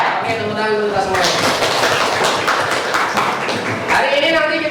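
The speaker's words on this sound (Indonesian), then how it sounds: "tepuk tangan dulu kita semua" A school classroom of students claps hands together in a sustained, dense burst of applause, with voices chanting and talking over the clapping throughout.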